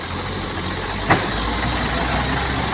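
Tractor engine idling steadily while oil palm fruit bunches are loaded onto a truck, a constant mid-pitched diesel drone with one brief sharp knock partway through, no voices.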